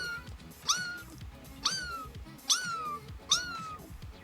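A human voice imitates a kitten, producing four evenly spaced high, rising meows, close and clear over quiet background.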